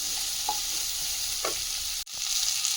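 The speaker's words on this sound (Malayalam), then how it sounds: "സവാള നല്ലതുപോലെ ഫ്രൈ ആകണം" Onions frying in a pan for a marinated mushroom curry paste, a steady broadband sizzle throughout with a few soft stirring scrapes and a brief dip near the end.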